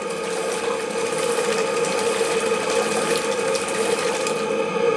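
A small RC paddle steamboat motor whirs steadily as it accelerates, with a mechanical, ratcheting texture over a faint watery background, holding a constant high pitch.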